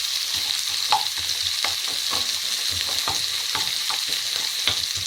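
Chopped onions fry over low to medium heat in a pan with a steady sizzle. A utensil stirs them with soft scrapes and taps at an uneven pace, and no one speaks.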